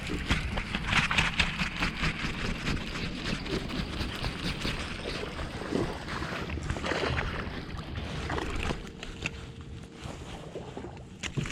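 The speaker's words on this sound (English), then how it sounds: "I am running the trolling motor on like 10 too" Boat trolling motor running on a fishing boat during chatterbait bass fishing, a steady whirring drone under constant wind and water noise, close and continuous.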